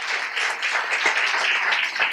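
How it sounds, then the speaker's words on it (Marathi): An audience claps warmly for the parents at the closing of a children's drama workshop, producing a dense, steady wash of applause that holds at an even level throughout. "सगळ्या पालकांसाठी एकदा जोरदार टाळ्या वाजू द्या"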